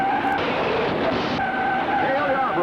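At the 1967 Indianapolis 500, a race car spins out with a short scrubbing skid and engine noise amid crowd ambience, heard briefly and somewhat distant under a commentator's voice.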